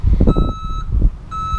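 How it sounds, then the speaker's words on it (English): A work truck reversing gives two bursts of high, steady electronic beeps over a low engine rumble, clear and fairly close. "Dad right now is moving the work truck"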